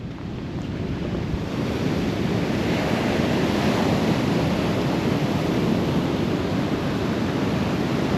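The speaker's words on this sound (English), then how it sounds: "The sound of the waves is so relaxing." Ocean surf breaking on Sapphire Beach at Coffs Harbour in the morning, a steady roaring wash of waves with wind buffeting the microphone, loud and unbroken throughout.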